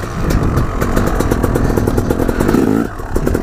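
A motorbike engine runs close and loud outdoors on a rocky trail, with a steady throbbing rumble and some clatter throughout.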